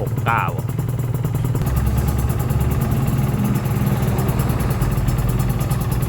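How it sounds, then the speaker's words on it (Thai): A Suzuki RG Gamma motorcycle engine, kept in original condition, runs at a steady, even idle with a fast rhythmic pulse and light mechanical clatter, close by, with a brief voice near the start. "เครื่องยนต์เงียบกิ๊บ"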